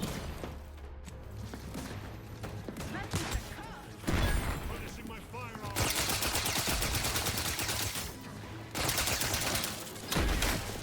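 Bursts of automatic gunfire from a weapon in The Outer Worlds 2, loud rapid volleys with pauses between them and sustained firing in the second half, with game voices in between.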